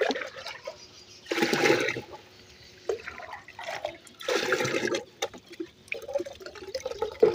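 Liquid organic fertilizer made from DAP and NPK is poured and mixed with water in a bucket, giving two loud sloshing pours separated by quieter trickles and drips.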